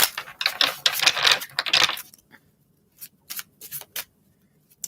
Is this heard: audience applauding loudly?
no